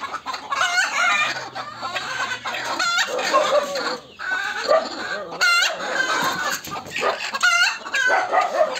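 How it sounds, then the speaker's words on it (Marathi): Hens on a farm cluck busily in a close, overlapping chorus while a rooster crows several times over them, loud and near, with the flock chatter continuing throughout. "बरेच काही कोंबड्या अंडे देण्यासाठी आलेले आहेत."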